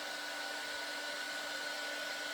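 A hair dryer blows steadily and loudly at close range, drying shaving foam on a handmade card, a constant whooshing roar with a faint tonal whine and no talking.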